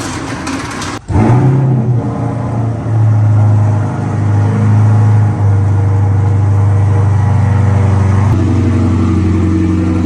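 A Corvette C8 sports car fitted with a new exhaust pulls away up the road, a loud, close, deep engine drone with a sharp start and slight rises as it gains speed.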